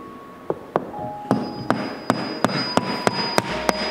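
Nails hammered into a wall, a quick series of about a dozen sharp, ringing metallic blows that speed up slightly, loud and close with no talking.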